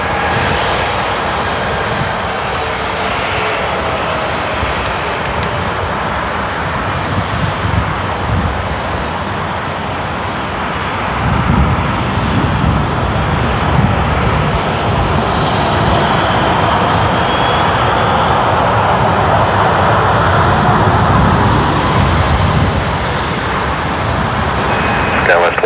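An Icelandair airliner at Seattle-Tacoma airport produces a broad, growing jet roar that swells louder in the second half, heard from a distance with radio chatter over it.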